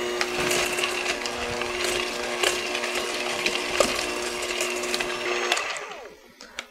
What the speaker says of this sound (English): you're just going to mix these ingredients until they're combined